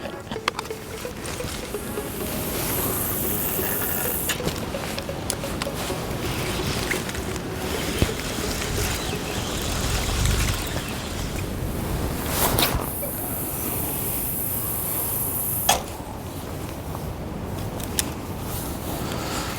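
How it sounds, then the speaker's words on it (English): Strong wind gusting across an open carp fishing lake, a steady broadband roar with louder surges and buffeting, with no talk over it. "this is some wind"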